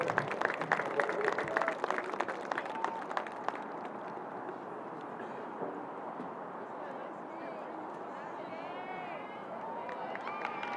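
A crowd applauds and cheers at a girls varsity soccer senior night, honoring a player. The clapping is sustained and broadband, strongest at the start, then settling into a steady wash of applause and crowd noise.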